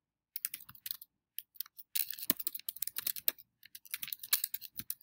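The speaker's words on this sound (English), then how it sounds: "I'm going to scroll down here and I'm going to start typing here" Keys tapped on a computer keyboard while writing a blog comment, a quick irregular run of crisp close clicks in bursts with short pauses, no voices.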